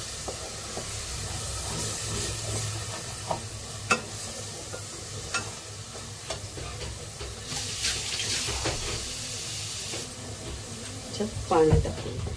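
Water poured into a pot of spicy crab curry, with the onion, coconut and coriander paste already added. The steady rush and sizzle runs throughout, along with a few clinks and stirring noises.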